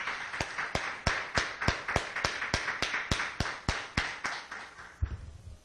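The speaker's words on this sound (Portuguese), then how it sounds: "Vamos dar uma salva de palmas para o nosso Deus?" A church congregation claps together in a steady, even rhythm of about fifteen sharp, roughly evenly spaced claps over five seconds, ending in a brief soft rustle.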